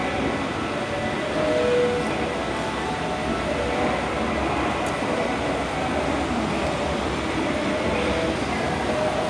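A train moving at Ebisu railway station in Tokyo, a steady loud rolling rumble with faint rail clatter that carries on evenly throughout, with no voices over it.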